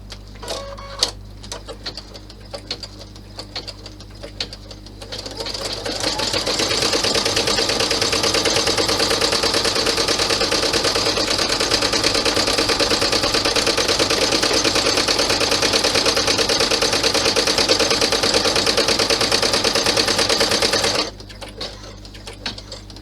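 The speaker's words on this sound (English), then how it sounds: "let's thread this down, stitch this down." An embroidery machine stitches down a 6x10 Chloe clutch bag, running a steady, fast mechanical stitching rhythm for about fifteen seconds, close and fairly loud, after a few light clicks and before stopping abruptly.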